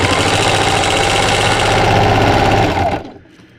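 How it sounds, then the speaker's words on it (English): A sewing machine stitches along a fabric edge with a back stitch, a fast loud mechanical chatter up close for about three seconds before stopping abruptly. "I'm just going to run the edge of my fabric with the edge of my presser foot and back stitch."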